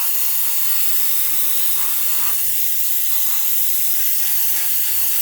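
Compressed air at 18 psi blows in two steady hissing bursts into the seams of an Airfix 1/48 Spitfire Mk.XII model kit, each lasting about one to two seconds, with a short pause between them.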